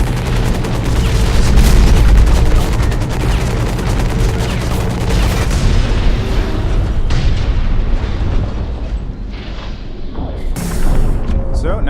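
Rockets and mech weapons firing in the video game Hawken, a dense run of booming blasts and rattling gunfire, loud and steady for most of the stretch before thinning toward the end.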